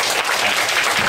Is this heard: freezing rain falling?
no